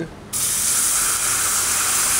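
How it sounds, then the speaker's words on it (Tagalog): Water poured into a hot pan of browning, slightly scorched cooking bursts into a loud, sudden sizzle that settles into a steady, hissing steam, close up with no talk. "Lagyan natin ng konting tubig."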